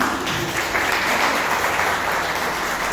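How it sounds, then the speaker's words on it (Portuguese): A church congregation applauds steadily, a dense wash of many hands clapping at once that is loud and sustained throughout, with no talk over it. "Então, aplauda o chá mais uma vez"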